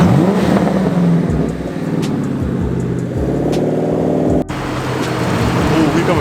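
A Ford Mustang Mach 1 rolls up close on a highway cruise and revs, its engine note rising and falling in loud sweeps, with voices talking over the traffic.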